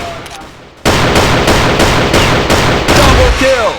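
Gunfire in a first-person video game starts abruptly after a short lull, then rapid automatic shots rattle loudly and densely to the end.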